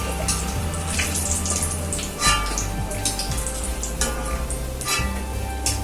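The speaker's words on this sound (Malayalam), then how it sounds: "കശുവണ്ടി ആദ്യം നമുക്ക് ഇതിൽ മൂപ്പിച്ചെടുക്കാം." Cashews frying in hot ghee in a pan, a steady close sizzle with occasional stirring clinks and a brief louder scrape, no talking.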